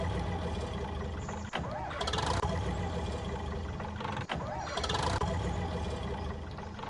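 Worn-out engine in Farming Simulator 19 on an abandoned farm, cranking without catching: two steady grinding crank attempts, each several seconds long, cut off by abrupt stops.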